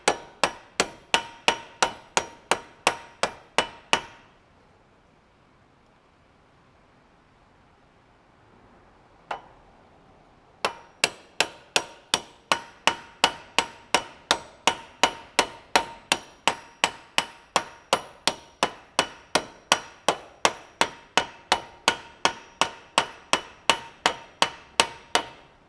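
Steady hammer strikes on a rivet in a metal candle holder, sharp ringing metallic blows in an even rhythm, close and loud, pausing for several seconds midway before resuming.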